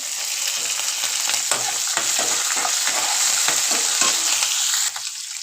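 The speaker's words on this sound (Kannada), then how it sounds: "ಸಣ್ಣ ಉರಿಯಲ್ಲಿ ಚೆನ್ನಾಗಿ ಫ್ರೈ ಮಾಡ್ಕೋಬೇಕು ಕಡಲೆ ಬೀಜನೂ ಮತ್ತು ಕಡಲೆಬೇಳೆ" Peanuts and chana dal fry with green chillies in a pan over a low flame, giving a steady close sizzle broken by repeated scraping stirs, with no talk.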